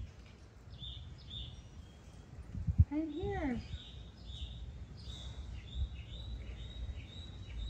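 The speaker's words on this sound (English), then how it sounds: "Hear that bird?" A small songbird calls a few times outdoors in a garden during potting work, brief rising and falling chirps standing out faintly over background noise and distant chirping, with people talking nearby.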